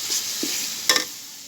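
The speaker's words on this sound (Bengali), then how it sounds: "একটু পানি রাখবে এখন, দিয়ে আর একটু কষাই নেব।" A spoon stirs tomato masala in a hot pan over a soft, continuous sizzle, with one sharper scrape near the end.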